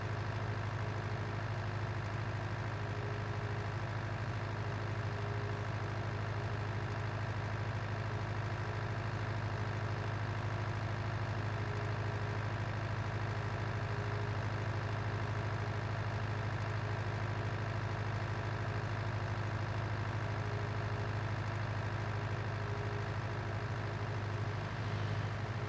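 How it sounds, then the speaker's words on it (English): A tractor engine idles steadily in the farming game Slovak Village, a constant low droning hum with no change in pitch throughout. "Another reason to get rid of this tractor."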